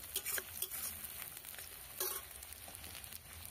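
Flat beans sautéing with green chili and garlic paste, a soft, close sizzle with occasional stirring scrapes and spatters, fairly faint overall.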